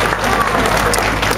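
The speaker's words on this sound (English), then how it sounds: "give them a nice round of applause, ladies and gentlemen" Loud, dense applause from an outdoor crowd at a summer festival in Blackrock Village, continuous clapping filling the brief moment with a voice faintly mixed in.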